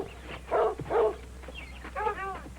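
Dogs near a swamp-country home give a few short barks and then a whimpering, whining yelp, under a faint background hum.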